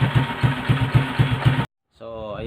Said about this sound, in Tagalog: simple o tamang pag warm up natin sa umaga ng ating motor.